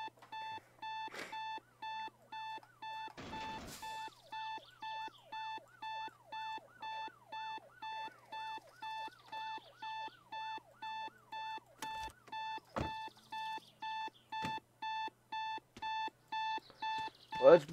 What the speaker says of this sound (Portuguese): O despertador ficou ligado